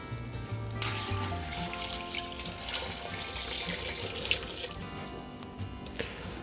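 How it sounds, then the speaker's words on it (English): Beef broth pours into a stew pot of vegetables, making a continuous splashing, gurgling stream that runs close and steady for several seconds. "I'm going to add some beef broth."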